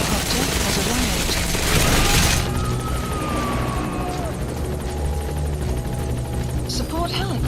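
Support helicopter arriving in a Metal Gear video game, a steady rotor drone with game sounds and bursts of noise, while voices talk over it throughout.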